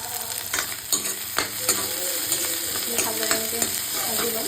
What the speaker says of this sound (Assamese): তাৰ পিছত মই দি দিছোঁ অকণমান থেতেলি লোৱা আদা আৰু নহৰু